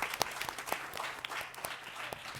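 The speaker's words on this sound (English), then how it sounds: "give him a huge round of applause" Applause from the audience at an academic conference welcoming a speaker, moderately faint and diffuse clapping heard from a distance in a large hall, brief and fairly even.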